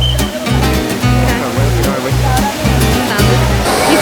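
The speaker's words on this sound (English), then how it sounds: "We've made it to the Trevi Fountain." Water splashes and rushes continuously at the Trevi Fountain in Rome, a broad steady roar with a regular low thumping beat running underneath.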